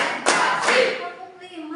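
Children clapping in unison on a teacher's count in an Indonesian classroom religion lesson, a short burst of two or three sharp claps close by, followed by a voice speaking.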